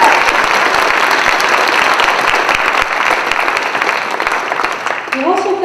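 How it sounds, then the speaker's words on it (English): Loud, sustained applause from a large audience at a candidate forum in a high school facility fills the whole stretch, dense and steady, with a brief voice emerging near the end. "Could you just give them a round of applause?"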